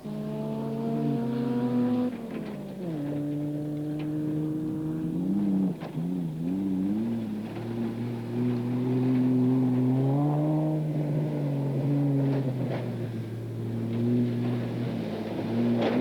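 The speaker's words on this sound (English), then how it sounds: "the top drivers are still hard on the gas, striving for every valuable second" Rally cars at the 1995 Safari Rally accelerate hard along a rough old mining track, engines loud and close, revving up through gears in rising sweeps with brief lifts between them.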